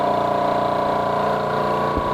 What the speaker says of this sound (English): I think this sounds like a typical construction site compressor, not quite as loud, but definitely not as quiet as the Omega